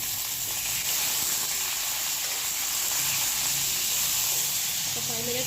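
Bitter gourd pieces and curry leaves sizzle steadily in hot oil, a constant close hiss and crackle from the pan lasting throughout without pause.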